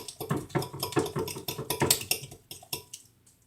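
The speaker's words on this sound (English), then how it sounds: "So give it a quick stir." Partly melted fathead pizza dough gets a quick stir in a bowl, a rapid run of close scraping and tapping knocks from a utensil against the dish that fades toward the end.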